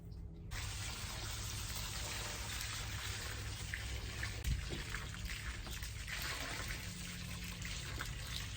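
Water poured steadily over newly planted roses and clematis in a garden bed, a continuous splashing trickle at close range with no talking.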